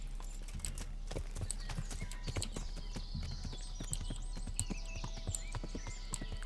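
Horse hooves clip-clop steadily and close in the medieval game Kingdom Come: Deliverance, a brisk repeating beat with a faint whinny-like tone near the end and no talking.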